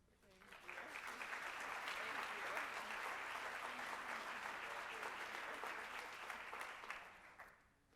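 A conference audience applauds to welcome speakers to the stage, a dense, steady wash of clapping from many hands that swells within the first second, holds evenly, then fades near the end.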